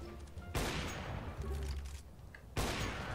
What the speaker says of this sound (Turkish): Havalı tüfek ya, bacağını sıkacağım